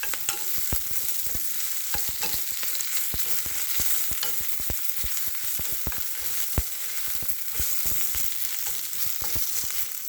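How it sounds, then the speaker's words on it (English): Cabbage sizzles steadily in a hot pan while a utensil scrapes and clacks in quick, irregular strokes, flash stir frying close by with no talking. "So we're flash frying, quick stir fry."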